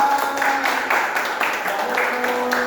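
A classroom of students applauds a student group with a short burst of steady clapping from many hands, close and fairly loud, with voices mixed in.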